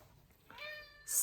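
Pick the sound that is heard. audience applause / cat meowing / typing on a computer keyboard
cat meowing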